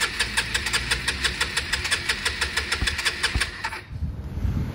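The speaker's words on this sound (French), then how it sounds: "le démarreur fonctionne et il a failli démarrer" A scooter engine is cranked on its electric starter in a fast, even chugging rhythm of about four seconds that briefly catches before cutting out, loud and close.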